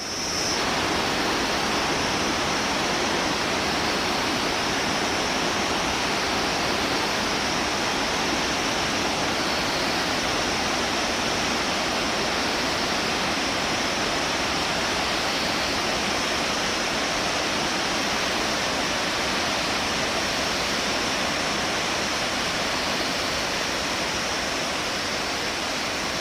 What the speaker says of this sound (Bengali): ঝর্ণার জল গিয়ে মিশেছে অনেক নিচের ঘিস নদীতে